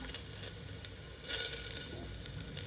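Curry leaves sizzle and crackle in hot oil in a pan of moong dal khichdi with garlic, a steady close frying hiss with small pops and light stirring.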